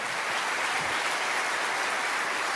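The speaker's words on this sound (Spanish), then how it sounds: "Alguien tiene que aplaudir más que eso" Applause from a church congregation during a sermon, a dense, steady wash of clapping that stays loud and even for the whole short stretch, with no talk over it.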